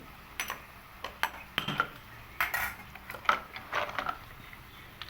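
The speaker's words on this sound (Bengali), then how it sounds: "আমি প্রেশার কুকারটাকে খুলে আপনাদেরকে দেখাচ্ছি" Metal clanks and clinks as a pressure cooker lid is handled and opened on cooked chicken and potatoes, a series of sharp, irregular knocks close by with no talking.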